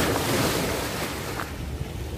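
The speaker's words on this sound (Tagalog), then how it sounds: "Yan, yung tubig na yan na ikot." A strong swirling river current surges as a steady broadband rush of churning water, with wind buffeting the microphone and no speech.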